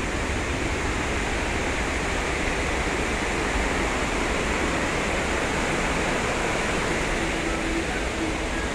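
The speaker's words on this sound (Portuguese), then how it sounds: "A queda de água aqui, ó, que eu achei mais bonito foi essa parte aqui" Water pouring over a dam spillway in Carnaubal, Ceará, a loud unbroken roaring rush that stays steady and close throughout, with no clear voices over it.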